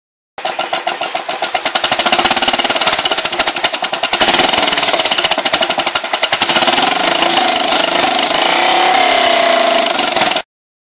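A Royal Enfield motorcycle fitted with a Gunner exhaust silencer starts and runs close by, a loud, rapid thumping beat with a brief rev partway through, then cuts off abruptly.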